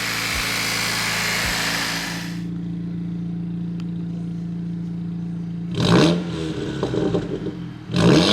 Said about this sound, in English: I'm gonna let the car run for a little bit, and then we'll drive it out and see how it sounds